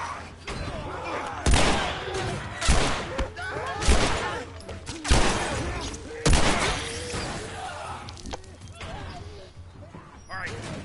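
Gunfire in The Last of Us during a livestream, several loud broadband shots spaced a second or so apart amid game ambience, with people talking over it.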